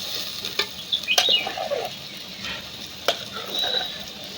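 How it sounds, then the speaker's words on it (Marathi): Spice masala frying and being stirred in hot oil in a pot over a wood-fired chulha, with soft sizzling, scraping stir strokes and a few sharp clinks, close by and without talk. "आता हे वाचन तेलामध्ये परतून घ्यायचं"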